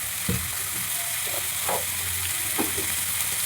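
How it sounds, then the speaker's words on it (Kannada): Grated beetroot fries with turmeric and salt in a pan, giving a steady close sizzle with a few soft stirring clatters. "ಈಗ ಒಂದು ಜರ ಅರಿಶಿನ ಮತ್ತು ಉಪ್ಪ ಹಾಕಿ ಫ್ರೈ ಮಾಡೋಣ"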